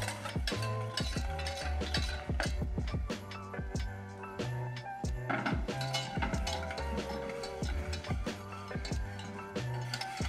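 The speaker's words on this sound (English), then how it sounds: "So once you get pretty frothy, off the heat. Whisk, whisk, whisk," A whisk beats bourbon caramel sauce with cream in a pan, rapid rhythmic metallic ticks and scrapes clattering steadily and close up, with musical tones running underneath.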